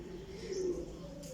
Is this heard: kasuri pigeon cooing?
yes